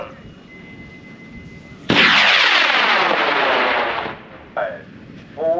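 A model rocket launch at the Distant Thunder 2021 event: after a quiet countdown lull, a sudden loud broadband roar of the motor bursts in and holds for about two seconds before fading as the rocket climbs away, with faint voices near the end.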